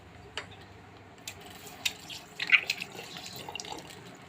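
Hands being washed under a running tap at a sink, a soft steady trickle with light splashes and a brief brighter splash midway, fairly quiet and close, with no talking.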